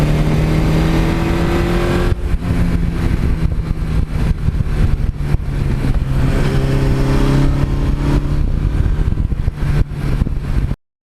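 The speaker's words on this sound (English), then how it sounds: "the experience of riding older motorcycles" A 1982 Suzuki GS1100E motorcycle engine runs steadily while riding, a loud buzzing drone with shifting revs and wind rush, no voices.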